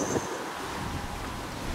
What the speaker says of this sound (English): we opened the door 5 seconds, yeah, it's really windy. Hits you straight in the face.